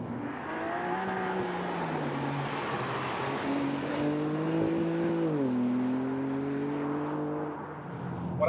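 A BMW M4 drives along at a steady cruise, its engine droning with rising and falling harmonic tones as it shifts load, accompanied by constant road and tyre noise inside the cabin.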